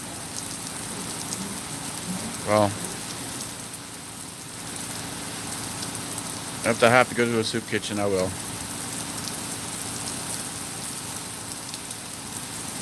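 Steady rain falls outdoors as a continuous, even hiss throughout, with someone speaking briefly over it twice, near the start and again in the middle.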